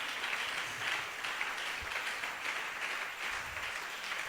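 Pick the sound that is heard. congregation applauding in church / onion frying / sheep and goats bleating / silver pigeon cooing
congregation applauding in church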